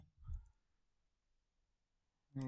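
Brief, close mouse clicks at the start and end of a short, otherwise quiet stretch while saving a page in a Divi website builder tutorial.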